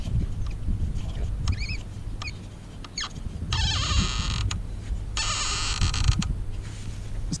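A BougeRV kayak rack bar being loosened at its knob, shifted to a new angle and tightened back down, giving close creaks, scrapes and short metallic rattles in irregular bursts, with no talking.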